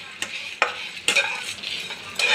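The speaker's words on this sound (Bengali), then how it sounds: "এখানে একটা প্যানের মধ্যে শুকনো লঙ্কা, গোটা জিরে, গোটা ধনে আর পাঁচফোড়ন সব একসঙ্গে নিয়ে আমি ভালো করে ভেজে নিচ্ছি" Dry red chillies, whole cumin, whole coriander and panch phoron are dry-roasted in a pan, heard as a series of sharp scraping stirs with a light sizzle and rattle of spices, close and fairly loud.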